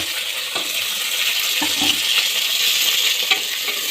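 Chopped tomato and green chillies stirred into golden-brown onions frying in a pan for egg biryani, a steady bright sizzle with soft scraping strokes of a spoon at intervals, close and continuous with no voices.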